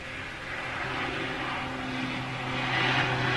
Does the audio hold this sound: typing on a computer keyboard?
no